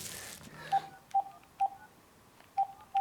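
Telephone keypad tones beep one at a time, five short, bright presses spaced unevenly across a few seconds, with faint room sound between them.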